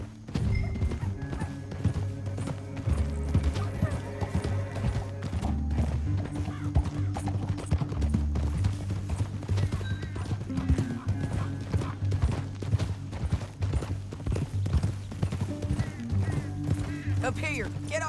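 Horse hooves clip-clopping in Red Dead Redemption 2, a steady rhythmic beat of hoofbeats running under a game music score, with a whinny and faint mechanical clatter mixed in.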